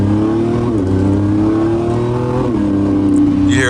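A Lamborghini Revuelto's exhaust opens up around 4,000 RPM, a loud, close engine drone that holds steady, dips briefly twice and climbs again as the revs rise.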